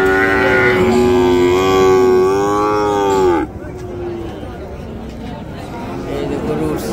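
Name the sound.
cattle mooing at a cattle market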